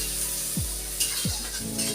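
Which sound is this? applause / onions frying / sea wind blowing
onions frying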